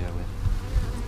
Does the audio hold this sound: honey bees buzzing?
yes